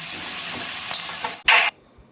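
Meat cooking in a pan with fried onions sizzles loudly and steadily up close, with a short burst of louder hissing near the end before it drops away.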